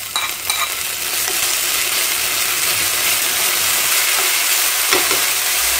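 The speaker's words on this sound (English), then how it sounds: "And now at this point, I'll be adding this ginger and garlic paste." Ginger and garlic paste sizzles steadily in hot oil in a pan for Bengali aloo chop, a constant bright frying hiss with a few faint scrapes of stirring, close and continuous without talk.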